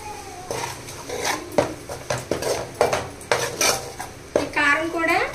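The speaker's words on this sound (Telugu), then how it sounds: "ఇప్పుడు బాగా కలపాలండి." A spoon scrapes and clatters in a pan as chili powder is stirred into Nellore-style fish curry, repeated close knocks and scrapes over a faint sizzle, with no talk.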